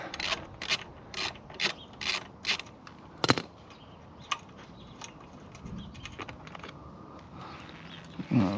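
Ratchet with a 10mm socket loosening seat bolts on a neglected Yamaha 125cc motorcycle; a series of quick, close clicking bursts in short rhythmic runs, then scattered single clicks and light rubbing.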